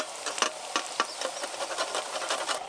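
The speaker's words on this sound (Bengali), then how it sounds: "এই যে আদা গ্রেট করে দিচ্ছি" Fresh ginger is grated by hand for potato chop filling, making a quick, continuous scraping rasp with a few harder strokes, close up and without speech.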